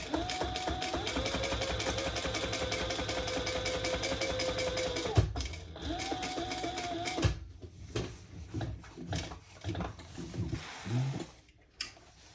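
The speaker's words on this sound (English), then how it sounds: "And then we're going to stitch down this one side." A sewing machine stitching down the side of a fabric diaper backpack, running fast and steady at close range for several seconds, then stopping, followed by quieter handling clicks and short bursts.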